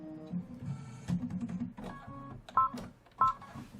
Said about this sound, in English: It's now going to stitch out the placement line.